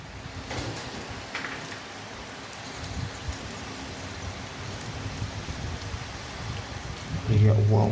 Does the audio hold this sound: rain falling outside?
yes